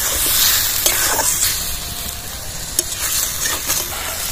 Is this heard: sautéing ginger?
yes